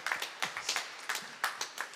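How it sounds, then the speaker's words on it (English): Scattered hand claps from a congregation in a university chapel, sparse and uneven, a handful of sharp claps spread over two seconds rather than sustained applause, moderately faint with room reverberation. "Please give the Lord a great big hand clap"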